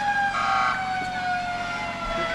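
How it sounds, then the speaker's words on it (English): Sirens on emergency vehicles rolling through the 2013 Kingston Christmas Parade, a sustained wailing tone sliding slowly in pitch over traffic rumble, loud and close, with no talking. "as you hear the last of the sirens coming through"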